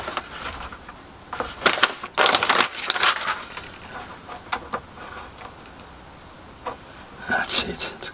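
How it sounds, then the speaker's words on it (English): Glued wooden veneer is peeled back on a small shed, giving close, crackling tearing and crunching bursts that come and go between quieter pauses. "it just hasn't gone on quite straight, so I just want to peel it back"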